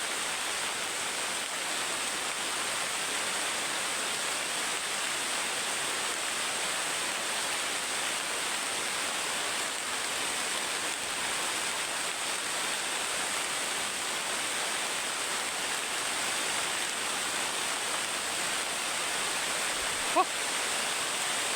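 A heavy downpour rushes without pause for the whole stretch, a loud, even roar like falling water, with one sharp click near the end.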